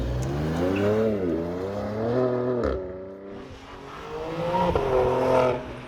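A 2026 BMW M2 CS with an aftermarket exhaust revs and accelerates hard through several gear pulls, its engine note rising in pitch, dropping at shifts, then climbing again, loud and close.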